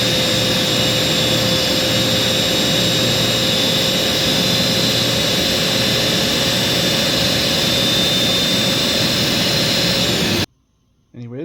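A Panasonic MC-UL915 upright vacuum cleaner runs with its brush roll switched off, giving a steady, loud whine and airflow roar that holds for about ten seconds before cutting out abruptly.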